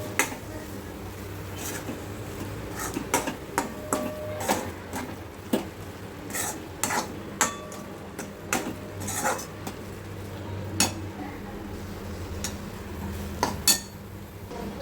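A utensil mixes chutney, garam masala, jaggery powder and salt in a pan, giving repeated light metallic scrapes and clinks in an uneven rhythm, close and fairly quiet.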